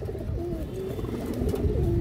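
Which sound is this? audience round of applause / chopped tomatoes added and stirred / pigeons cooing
pigeons cooing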